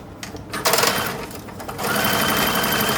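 A sewing machine stitches pieces of a toddler's summer hat with gray lining thread, starting and stopping in short bursts before settling into a fast, steady whirring run at close range.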